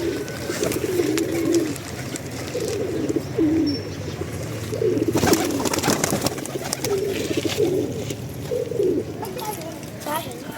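Pigeons coo repeatedly in soft, low rolling calls, close by while pecking at scattered flatbread pieces, with a person talking over them and the faint rustle of feeding birds.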